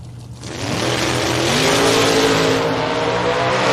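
A box truck drag racing down the strip at a Friday drag event, its engine swelling from a quiet idle into a loud, sustained roar as it accelerates hard and close.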